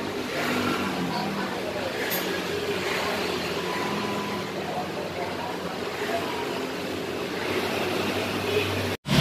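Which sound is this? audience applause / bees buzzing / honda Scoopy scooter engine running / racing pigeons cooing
honda Scoopy scooter engine running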